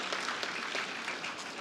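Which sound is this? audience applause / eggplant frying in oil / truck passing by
audience applause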